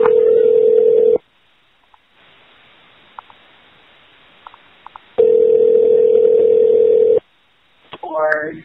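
A phone call being placed: a steady dial tone sounds, cuts off, then quiet with faint keypad clicks, the steady tone returns for two seconds, and a short warbling ring starts at the end.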